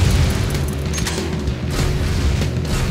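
Grenade blasts and combat noise in the racing game Jak X, a dense, loud low rumble with booming bursts running for the whole stretch, no voices.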